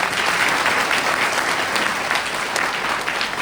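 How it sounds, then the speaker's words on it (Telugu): Dense, sustained applause from a large audience fills a Marikal religious discourse gathering, steady and loud throughout with no pauses. "మరికల్ వీరశైవ సమాజం వారికి చప్పట్లు చెందాలి."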